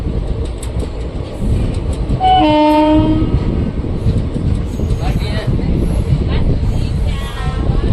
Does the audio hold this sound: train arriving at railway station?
yes